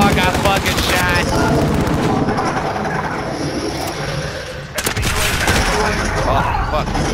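Rapid automatic gunfire in a video game, sustained bursts rattling loudly for several seconds with a brief lull, a voice talking over it.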